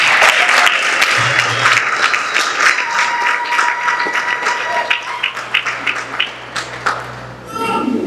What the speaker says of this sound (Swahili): Niombe tushangilie kidogo kwa makofi.